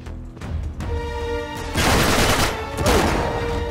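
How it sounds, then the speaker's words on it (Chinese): Gunfire bursts from a close-range shotgun battle in the video game Uncharted 3, with loud booming blasts and rattling shots layered over a tonal game soundtrack, growing heavier in the second half. "近距离，散弹近距离开枪。"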